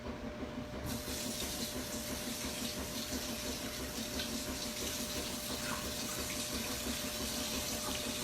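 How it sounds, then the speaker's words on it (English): A kitchen tap runs steadily into a sink for hand washing, a constant close rush of flowing water throughout with no talk. "I'm going to wash my hands."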